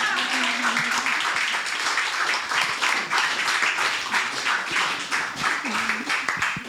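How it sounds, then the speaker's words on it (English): Audience applause at the end of a lunchtime talk on dune restoration research; a steady, dense patter of many hands clapping continues throughout at a moderate level. "You can clap now."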